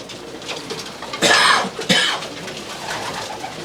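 Racing pigeons in a loft make soft cooing and rustling nearby, with two louder bursts of fluttering or movement partway through over a steady background hum.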